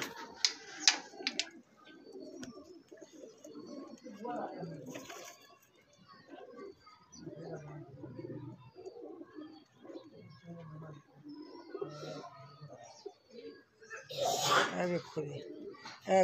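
Old pigeons in a loft softly cooing, low throaty calls repeating on and off close by, mixed with people talking and a few sharper rustles.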